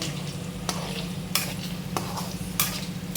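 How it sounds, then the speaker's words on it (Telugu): Paneer fries in a pan until golden, with a steady close sizzle and three or four sharp scraping stirs at regular intervals. "ఇంకో ఇలా గోల్డెన్ కలర్ వచ్చేలాగా వేయించుకోవాలి"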